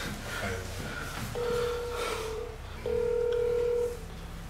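Ringback tone of a phone call that goes unanswered: two long, steady electronic tones separated by a pause, sitting clearly above a faint room background.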